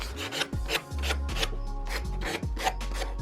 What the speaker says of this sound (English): Just gonna smooth down some of the edges.